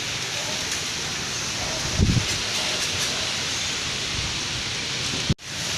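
Wind blows steadily outdoors as a dense, broadband roar that buffets the microphone throughout. A brief thump comes partway through, and the sound cuts out abruptly near the end.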